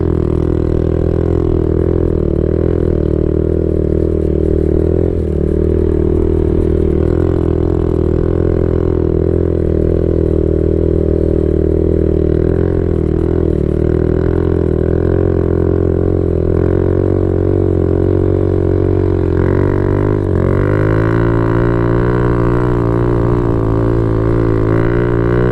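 Honda Grom motorcycle riding in second gear, a steady loud engine drone with layered harmonics holding fairly even for most of the run, then shifting and rising in pitch near the end as the revs change.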